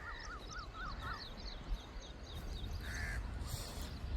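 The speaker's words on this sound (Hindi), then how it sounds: "फिर आ गए हैं एक दो कौवे उधर ही" One or two crows outdoors give a series of harsh caws, close and clear over a rustling, breezy background.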